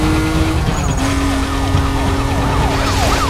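A police car siren wails in the Need for Speed Most Wanted racing game, its rising and falling tone looping steadily over a constant engine drone during a chase.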